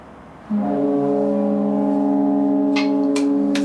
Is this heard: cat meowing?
no